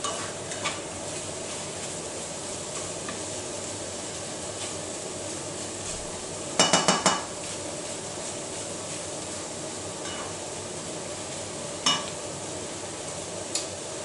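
A Doritos omelette with cheese fries in a pan with a steady, soft sizzle throughout, broken by a couple of brief clatters of a utensil against the pan.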